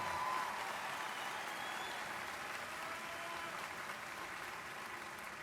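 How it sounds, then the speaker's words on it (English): Sustained applause from a university winter commencement audience, fairly distant and even, a continuous wash of clapping throughout. "Yes, that deserves a round of applause."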